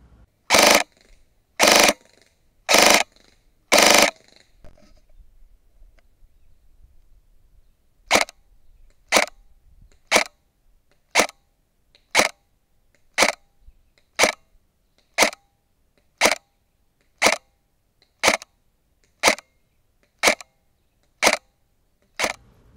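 A VFC MP7 airsoft electric gun fires single shots, first four sharp loud cracks spaced about a second apart, then after a pause a long steady series of evenly timed shots, each crisp and close, with no talking.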